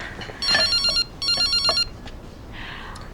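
A telephone rings indoors in two electronic trilling bursts, each about half a second long, close and clear, followed by a quieter stretch.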